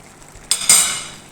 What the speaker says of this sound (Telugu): అన్నీ వేసుకుని కలుపుకోవాలి